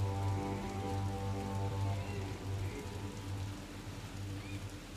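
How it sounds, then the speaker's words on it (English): Steady rain falls constantly in a muggy setting, a continuous even patter across a surface that holds at a fairly loud level throughout, with no voices. "Muggy, but it's raining. It's constantly raining."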